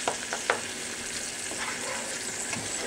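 Food sizzles and crackles in a hot pan while frying for shrimp and lobster rice, a steady frying hiss with a few sharper pops and scraping stirs, close and fairly quiet.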